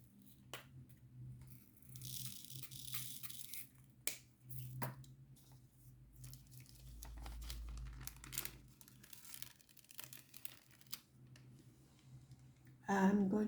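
Protective paper is peeled off a diamond painting canvas, giving quiet crinkling and short tearing and snapping sounds in scattered bursts, with a louder crackle near the end.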